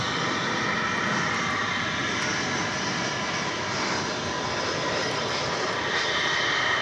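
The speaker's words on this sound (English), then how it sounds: "Another A319 coming in from San Luis Potosi." An Airbus A319 jet arriving at DFW airport gives off a continuous, even engine roar with a hissing high edge, moderately distant and unbroken, with no talking.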